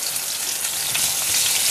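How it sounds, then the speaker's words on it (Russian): Fish sizzles in a frying pan with half-ring slices of onion scattered over it, giving a dense, steady hiss and crackle heard up close without any voices. "и засыпаем все луком."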